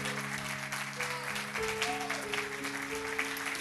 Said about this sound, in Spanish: Dale un aplauso a Jesús y decirle: gracias, Señor.